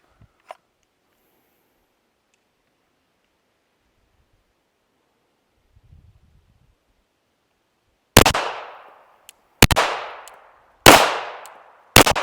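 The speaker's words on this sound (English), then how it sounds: "Just come out to the reset of the trigger and then break that next shot and the next shot and the next shot" Handgun shots at a shooting range: four sharp, loud reports about a second apart, each ringing out with a short decaying echo, following several seconds of near silence.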